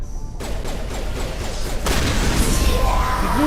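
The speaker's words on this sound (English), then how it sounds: "He blew himself up." A bomb blast in Mass Effect 1 Legendary Edition: a loud, sudden burst of noise that cuts in partway through and then rolls on as a sustained, roaring rumble over steady game background sound.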